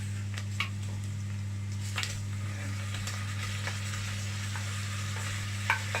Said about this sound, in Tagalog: Then you can add your seared beef.